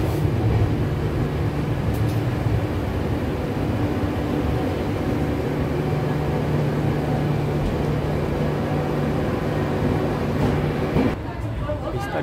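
Inside a moving glass-roofed Vistadome coach on the NJP–Alipurduar 15777 tourist express, a steady, loud rail rumble with a low drone carries on throughout and eases slightly near the end.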